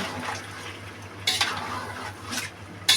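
Meat stirred in a pot during biryani cooking, with steady scraping and sizzle, scattered louder scrapes of the spoon against the pot, and a low hum underneath.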